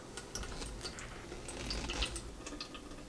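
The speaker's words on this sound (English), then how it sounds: "kind of drips through the filter" Water trickles and drips through an Epic Pure filter pitcher, a soft continuous patter with scattered small splashes, faint and close, no voices.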